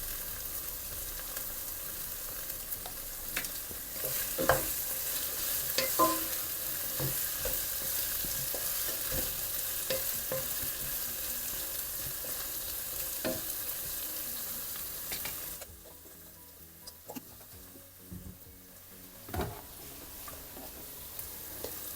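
Anglo-Indian meatball stew with frozen meatballs and peas sizzles in a pan, a steady frying crackle broken by repeated clicks and scrapes of stirring; the sizzle drops noticeably partway through before a few more scrapes.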